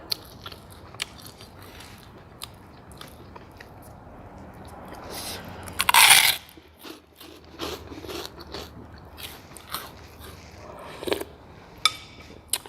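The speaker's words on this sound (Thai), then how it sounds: "แคบหมูซื้อมาทอดเองกรอบ สุดยอด เลย" Loud, close crunching of crispy home-fried pork rinds eaten alongside a noodle soup, with one sharp burst of crunch amid smaller chewing clicks and quiet pauses.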